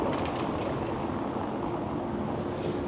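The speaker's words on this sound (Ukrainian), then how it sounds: "Трамвайчик їде." A tram rolls along a street in Odesa, a steady loud low rumble and rolling drone heard close by, with faint higher rattles and no talk over it.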